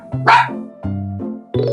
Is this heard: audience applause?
no